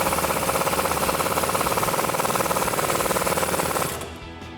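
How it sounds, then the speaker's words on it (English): Impact wrench with an 18mm socket tightening a lower suspension bolt on a Dodge Challenger during a coil-over install, a loud, close, rapid hammering rattle that runs steadily then cuts off near the end. "Now we're going to use our 7/8 wrench and our 18mm socket to tighten that lower bolt up."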